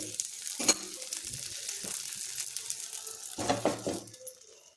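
Leftover upma flatbread frying in oil in a covered non-stick pan, a soft close sizzle broken by a few sharp clinks of a utensil, with no talk.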